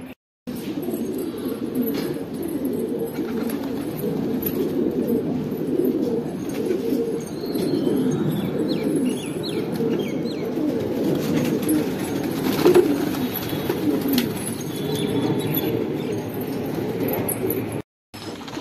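Male pigeons feed on grain in a coop while soft, low cooing drifts through, steady and close, with faint pecking, rustling and a few distant chirps behind.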